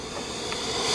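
A fogger sprays a mite-control treatment into a beehive with a steady, close, loud hiss that builds slightly over one second.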